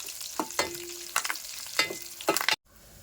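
Crushed garlic and curry leaves frying in hot oil in a pan for a dal tempering, a close sizzle broken by a few short stirring scrapes, then cutting off abruptly.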